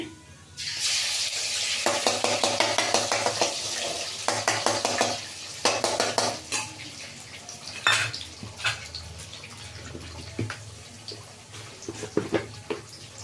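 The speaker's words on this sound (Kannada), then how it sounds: "ಈಗ ಮೊಟ್ಟೆ ಇದಕ್ಕೆ ಹಾಕ್ತಾ ಇದ್ದೀನಿ." Egg frying in a pan for egg noodles, a steady close sizzle with repeated scraping and stirring strokes of a spatula against the pan, growing choppier toward the end.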